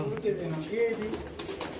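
Pigeons in a large loft of low-flying birds, giving soft, low repeated coos close by, under someone talking.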